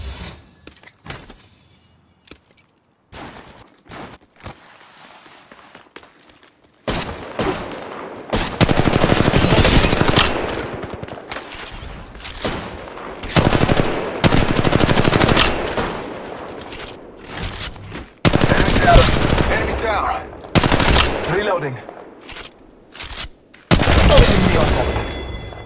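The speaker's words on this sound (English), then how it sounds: "Opening fire" Bursts of rapid automatic gunfire from the video game Apex Legends, loud and close, come in repeated sustained volleys separated by short pauses, with a quieter stretch of scattered shots at the start.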